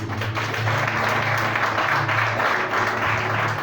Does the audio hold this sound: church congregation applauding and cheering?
yes